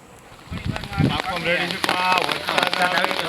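Steady patter of rain on a surface, close and continuous, with people talking over it.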